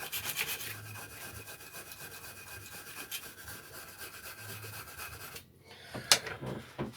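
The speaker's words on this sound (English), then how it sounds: "I'm just going to clear that rust off the flywheel." Rust is rubbed and scraped off the flywheel of a Quantum engine on a Westwood mower with steady, low-level abrasive strokes, followed by a brief pause and a sharp clink.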